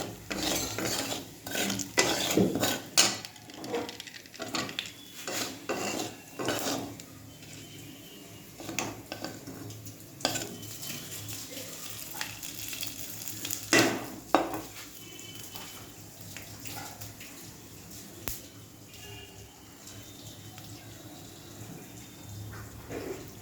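Ginger garlic paste going into a hot pan and being stirred: repeated scraping clinks of a spoon against metal, light sizzling and intermittent knocks over about twenty seconds, close by with no talk.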